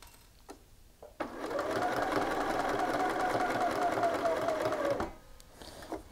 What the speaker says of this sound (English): Going to do a single back tack and just stitch across